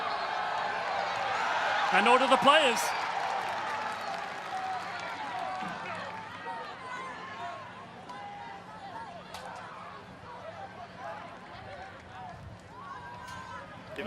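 Crowd noise at a rugby match between Anthem RC and California Legion, a broad stadium roar that swells briefly after a tackle and then eases into steady murmur beneath continuous commentary.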